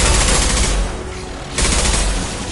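Sniper rifle fire in the video game Mass Effect 2: loud, dense bursts of combat gunfire with a brief lull in the middle, close and continuous, with no speech over it.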